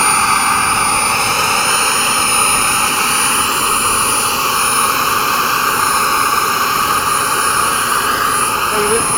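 HSD Super Viper radio-controlled turbine jet flying at an RC field: a steady, loud turbine roar with a high whine running throughout, with no break in the sound.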